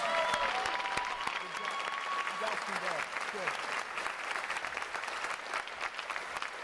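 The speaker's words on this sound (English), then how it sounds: "now let's give a round of applause" Applause from family and friends at a Navy ROTC graduation ceremony, steady crowd clapping throughout with a voice speaking briefly over it.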